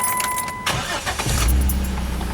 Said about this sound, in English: Let's see how she sounds.